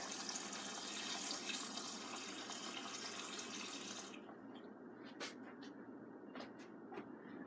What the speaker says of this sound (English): looks like it needs a little bit of our purified water